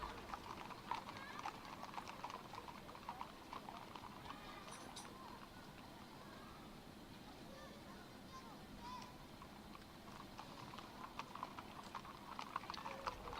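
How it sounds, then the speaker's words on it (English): Horse hooves clip-clop steadily through the Sorcery 2 video game scene, with a short whinny partway in, under a continuous background bed of game sound. "It's just a horse."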